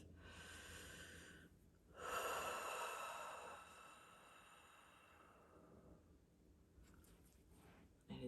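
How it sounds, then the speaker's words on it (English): A person draws a slow, deep breath in and lets it out, soft and close in a quiet room, with faint rustles near the end. "let's take a deep breath"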